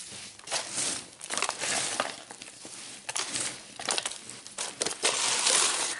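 Moistened organic potting mix being stirred and turned by hand for onion seedlings, gritty crunching and crinkling scrapes in uneven bursts, close and fairly loud with no talk.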